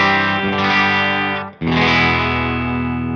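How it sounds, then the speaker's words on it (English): Ariel Posens' Fender signature electric guitar on a clean tone with a little slapback, a rich strummed chord ringing out, cut briefly and then struck again to sustain loudly, with no talking. "So this is just clean right now."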